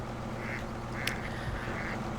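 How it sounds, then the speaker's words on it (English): A female mallard duck quacks in the video game Farming Simulator 17, giving a few short nasal quacks over steady ambient background noise. "Definitely a mallard, but it doesn't have the nice blue colours."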